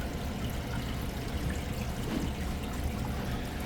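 Ice machine cleaner pours into an ice machine in a steady, close splashing trickle that runs without a break, with no talking over it.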